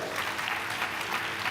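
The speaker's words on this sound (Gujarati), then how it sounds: "ભાઈ શ્યામ માટે જોરદાર તાળી દીધા દિલથી." An audience at a live event in Leicester applauding, with dense, steady clapping from many hands close by throughout.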